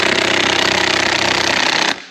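A battery impact gun hammers on a bolt in the cold for about two seconds, a loud, close, rapid rattling that stops abruptly at the end.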